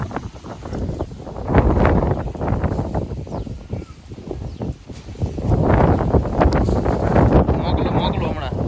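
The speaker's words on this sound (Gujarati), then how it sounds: "હજી પવન આવે છે હો" Strong storm wind gusting hard against the microphone, a heavy continuous roar that swells and eases in waves throughout, loud and close with no quiet moments.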